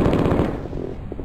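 Rapid machine gun fire in the 1995 video game Mortal Coil: Adrenalin Intelligence, a loud dense burst of rattling shots that thins out toward the end.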